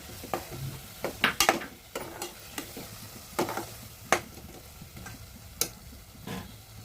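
Potatoes go into a hot pan for black-eyed pea usal, giving a low sizzle broken by sharp, irregular clinks and scrapes of a spoon stirring against the pan.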